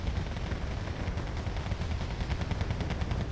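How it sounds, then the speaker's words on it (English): Rocket artillery fire in the Wargame Airland Battle video game comes as a dense, continuous rumble of overlapping blasts and crackles, moderately loud, with no voices. "More rocket artillery coming down once again."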